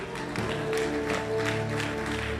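A church congregation claps and cheers in praise of God, a continuous, dense wash of applause and crowd voices that stays steady and loud throughout.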